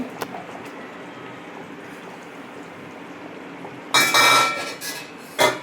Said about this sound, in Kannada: ಇವಾಗ ನೋಡಿ, ಲಿಡ್ ಓಪನ್ ಮಾಡೋಣ